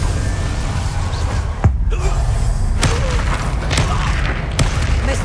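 An Incendio fire spell cast in Hogwarts Legacy lands as a few sharp booming blasts and thuds, spaced a second or so apart, over a low steady rumble of game ambience.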